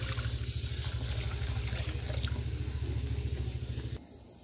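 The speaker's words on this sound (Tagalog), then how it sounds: "Pagkatapos, lagyan natin ng tubig." Water poured into a pan while making pancit palabok sauce, a steady continuous pour over a low humming background that stops abruptly near the end.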